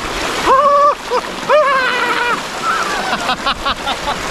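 Strong river current in Calapan, Oriental Mindoro, rushing and splashing in a steady close wash, with a person's voice rising over it in short tonal exclamations.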